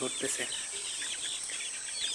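Chickens on a poultry farm during beak burning, a dense chorus of high chirps and clucks from many birds, steady and fairly close throughout.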